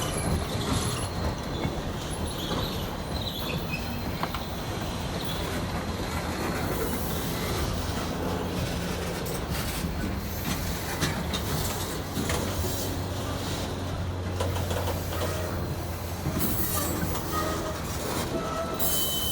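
A long grain freight train rumbles past close by, steady and loud, with wheel clatter and occasional high metallic squeals throughout.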